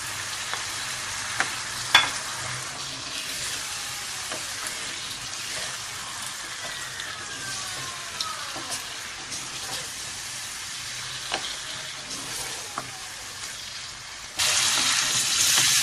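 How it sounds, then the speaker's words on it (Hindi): Spice masala and potatoes frying in a pan for tamarind potatoes, giving a steady close sizzle with scattered pops and stirring scrapes that continues throughout and grows louder and denser near the end, with no talking. "अब इसको अच्छे से हम मसाले को भून देंगे।"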